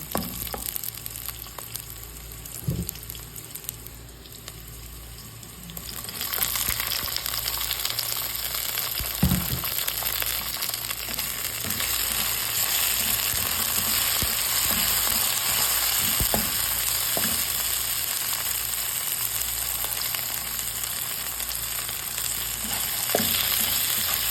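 Sardines sautéing in a pan as tomato goes in, with a loud steady sizzle that swells partway through and occasional stirring knocks, no talking.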